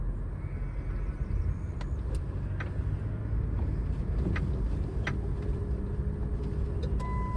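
Pickup truck engine revving and pulling forward as the gas pedal is pressed, a steady close rumble with road and wind noise, no talking.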